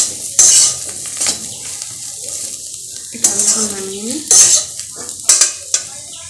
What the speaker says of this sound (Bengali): সামান্য একটু তেল দিয়ে দিয়েছি আর এই একটু রসুন আমি এতে ফেলে দেবো